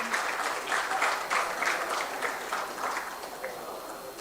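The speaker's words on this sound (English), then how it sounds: "Round of applause for them." Audience applause at a CFA Society Pakistan charter award ceremony, a steady wash of many hands clapping that fades slightly toward the end, with no voices over it.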